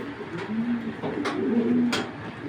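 A large female racing pigeon of a short-line breed coos in low, steady tones, close and fairly loud, with a few brief rustles in between.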